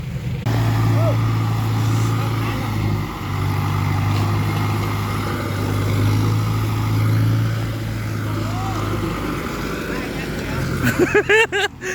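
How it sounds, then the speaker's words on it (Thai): A farm tractor engine runs in a steady low drone close by on a wet rice field, continuing under people talking before it drops away near the end. "เอารถไถขึ้นที่เลยครับ"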